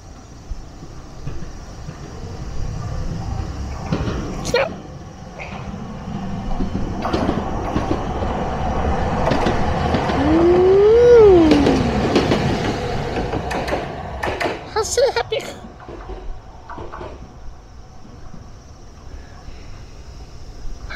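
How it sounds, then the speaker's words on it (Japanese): Toei Arakawa Line streetcars, 8900 and 8800 types, rumble past, their wheels clacking over rail joints, with a brief squeal of wheels rising and falling as they go by, then fading. "8900型電車、8800型電車、かっこいい。"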